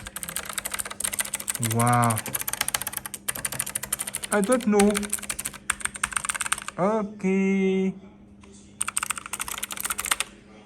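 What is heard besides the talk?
typing on Acer Predator Aethon 500 keyboard, Kailh Blue switches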